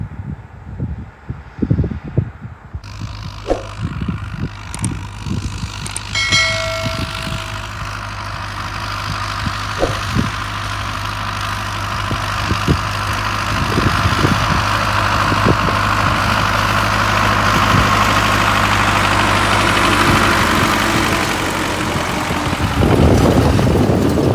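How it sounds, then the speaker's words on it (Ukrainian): The heavy engine of an MTZ-50 tractor hauling a seed drill runs steadily and grows louder as it turns and draws closer, with clanks and rattles along the way. "Вже пішов трактор на розворот і зараз буде заходити, вже їхати сюди."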